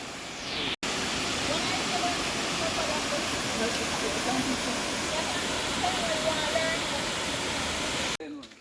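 A river in Portland rushes steadily, a loud continuous broadband wash of flowing water that cuts off briefly near the start and ends abruptly, with no talking over it.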